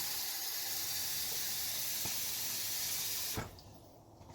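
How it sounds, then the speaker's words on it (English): Hot tap water rushes into a container for cleaning an RC truck, a steady hissing flow that runs loud and unbroken before cutting off abruptly near the end, leaving near silence. "I'm basically going to fill this container with nice hot water"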